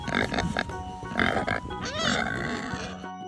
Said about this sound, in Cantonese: 豬